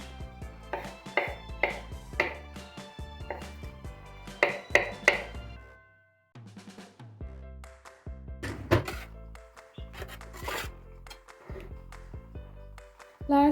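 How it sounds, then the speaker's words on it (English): A knife chopping sausage into small cubes on a cutting board, giving a series of close, sharp knocks in uneven bursts with brief pauses between. "we're gonna cut them into small cubes first and then add them"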